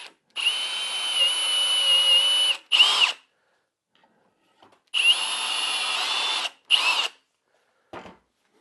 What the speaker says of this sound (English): Now I'm going to drill the face side so that they'll fit together.